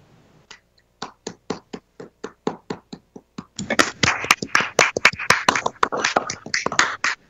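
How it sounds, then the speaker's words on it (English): Sparse, hesitant claps build into a round of applause from a small group, sharp close hand claps growing denser toward the end. "please take a time for a virtual round of applause"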